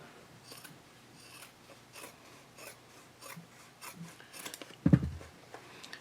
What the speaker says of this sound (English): I'm just trimming it about halfway to 1/4 of an inch